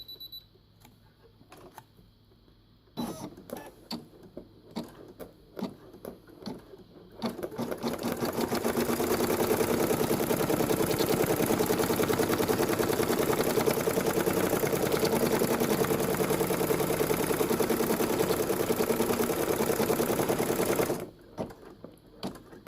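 A Brother PE 770 embroidery machine runs a placement stitch, first a few sparse clicks and short bursts, then a loud continuous rapid needle chatter for about fourteen seconds before stopping abruptly.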